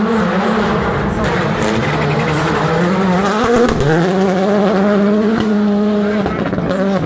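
Rally car at the Barbórka Rally driving fast: a loud, continuous engine roar rising and falling through gear changes, close by and steady for the whole stretch with no talking.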